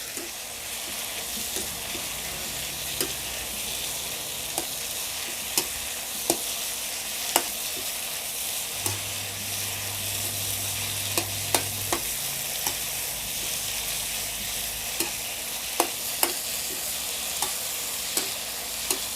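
Chopped pork ribs stir-fried with holy basil in a pan, heard as a continuous loud sizzle broken by regular sharp clinks and scrapes of a spatula against the metal.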